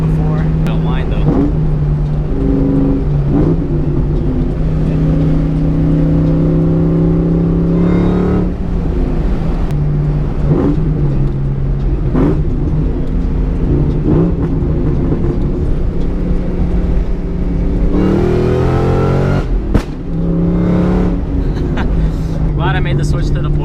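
Shelby Mustang with Borla Stinger exhaust at a car meet, its engine droning loud and close with repeated revs rising and falling over a constant rumble, while people talk over it.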